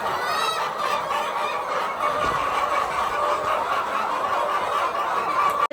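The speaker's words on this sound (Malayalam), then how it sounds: "സൗണ്ട് കേട്ടോ കോഴികൾ മൊത്തം കോഴികൾ" A poultry unit full of chickens makes a steady, dense din of clucking and chattering, continuous and fairly close, with no talk over it.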